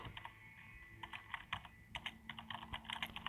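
Computer keys are mashed rapidly and unevenly at close range while playing Roblox, a dense flurry of clattering clicks with no voices.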